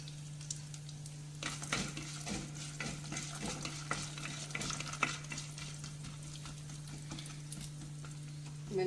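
Urad dal frying in hot oil in a pan while making lemon rice, a soft steady sizzle broken by scraping stirs, fairly quiet and close.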